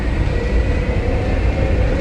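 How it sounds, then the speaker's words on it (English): Riding the AirTrain people mover at Newark airport, New Jersey, a loud, steady rumble and rolling hum of the car on its guideway fills the cabin without letup. "Having just landed at Newark, New Jersey airport, we're getting the Sky Train."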